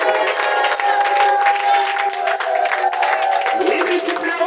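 A church congregation bursts into sustained applause and cheering during a sermon, a loud, continuous wash of clapping with voices mixed in, steady throughout before thinning slightly at the end.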